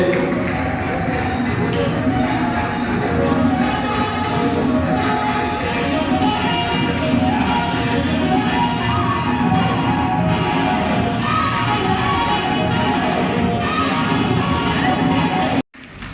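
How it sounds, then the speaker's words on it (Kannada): Audience applause at a journalists' association installation ceremony for newly elected district office bearers: sustained, dense clapping from a crowd filling the room steadily for about fifteen seconds, ending abruptly. "ಅವರನ್ನು ಚಪ್ಪಾಳೆ ಮೂಲಕ ಗೌರವಿಸುವ, ಚಪ್ಪಾಳೆ ಮೂಲಕ ಅವರನ್ನ ಅಭಿನಂದಿಸುವ ಪ್ರಯತ್ನವಾಗಿ ಹೇಳುತ್ತಿದ್ದೇವೆ"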